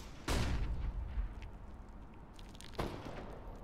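A flashbang grenade goes off in CS:GO with a loud, sharp burst and a ringing tail, followed about two and a half seconds later by a second, somewhat softer blast.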